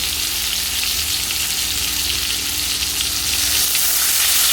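Starfruit fries in a hot pan for a sweet-and-sour chutney, and a small splash of water sends up a loud, steady hissing sizzle that holds close and continuous, with no talking.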